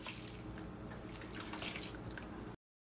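Squeezed banana blossom being washed by hand in salt water, soft close sloshing and dripping with small squishy splashes, quiet and continuous before cutting off.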